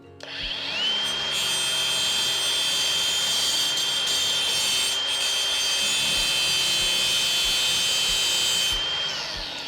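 A Ridgid R86047B cordless angle grinder cuts through screws with a loud, steady high-pitched whine and grinding screech that runs nearly the whole time, spinning up at the start and winding down near the end, with no talking.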